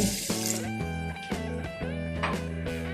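Water pours into a pan from a cup for sweet samosa syrup, a steady close splashing and trickling that runs the whole time with a faint tonal hum beneath.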